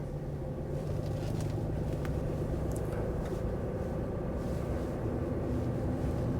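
A 2018 RAM 2500 Lone Star with a 6.7L Cummins diesel and 4WD cruises on a test drive, heard from inside as a steady low engine rumble and road noise with no talking.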